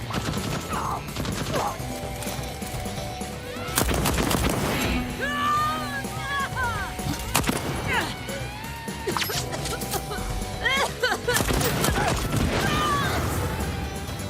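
Rapid turret gunfire in a shooter video game, dense overlapping shots and impacts with game effects throughout, with people talking excitedly over the action.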